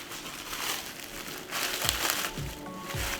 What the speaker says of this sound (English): Get your plastic wrap.